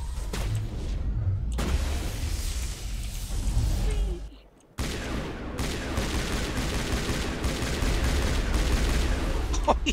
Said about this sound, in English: Hit him with that rocket, that's funny.